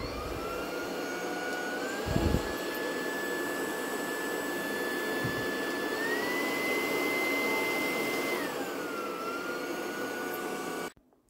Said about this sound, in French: je vous fais écouter les niveaux d'aspiration